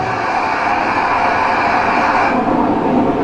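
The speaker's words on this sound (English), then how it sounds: "And there's another train coming." A train rushes past loud and close in India, near Mathura, a steady broadband roar with rumble that holds and then thins slightly toward the end.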